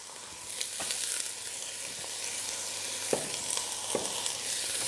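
Onions sizzling in hot oil in a pan, a steady bright hiss broken by occasional stirring scrapes and pops, close and continuous.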